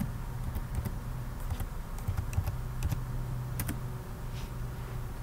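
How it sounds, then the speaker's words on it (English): Someone types a password on a computer keyboard, a run of quick, light key clicks in uneven bursts over a low steady hum, close and fairly quiet, with no talking. "Put in your password."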